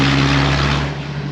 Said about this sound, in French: il faut aussi que je fasse quelque chose à mon échappement parce qu'il fait un boucan terrible